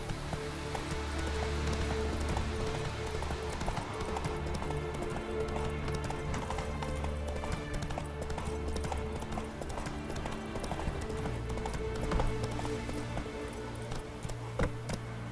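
Rhythmic clip-clop of the horse Roach galloping in The Witcher 3, continuous hoofbeats over a steady background, with occasional game sounds and some speech.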